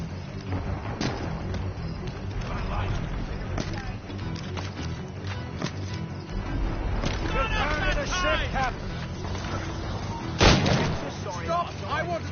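Booming mortar blasts and gunfire go off during a battle in the video game Assassin's Creed Rogue, with several sharp thuds and one loud burst near the end, mixed with shouting voices.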